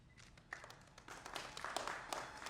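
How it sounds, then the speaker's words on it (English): Scattered audience applause at a lamp lighting ceremony inaugurating the Cyber Security Congress 2022 in Kolkata, fairly faint and distant, building in irregular bursts of clapping. "A huge round of applause as we finally inaugurate the day-long Congress of Cybersecurity 2022"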